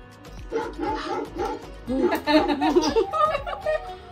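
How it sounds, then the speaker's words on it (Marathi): A dog-bark sound effect played by an Alexa smart speaker: barks repeat in short bursts, with a brief pause before a quicker run of yips and barks. "Alexa play dog sound"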